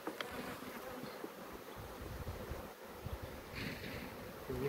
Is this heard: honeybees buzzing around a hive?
yes